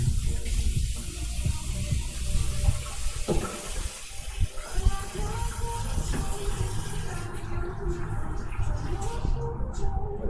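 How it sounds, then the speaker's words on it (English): Running tap water pours steadily into a kitchen sink as hands are washed before handling shrimp, a continuous close gush with light splashing and a faint voice in the background. "Before we touch that food, let's wash our hands."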